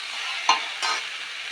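Potatoes and onions stirred in a pot for mutton stew: a steady close sizzle broken by two short scraping strokes of the spoon, with no talking.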